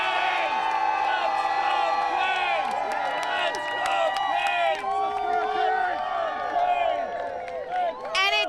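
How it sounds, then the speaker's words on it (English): Crowd at the Carolina Hurricanes victory parade in Raleigh, cheering, whooping and chanting together in a dense, continuous roar, with voices talking over the top. "Oh, we've got the chants going already."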